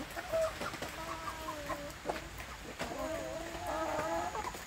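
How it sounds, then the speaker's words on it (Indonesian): Free-range village chicks cluck softly and repeatedly while eating, small peeping calls rising in scattered bursts over a steady background hum. "Jadi kalau anak ayam kampung sudah makan seperti ini, kita tinggal memberi makan ya"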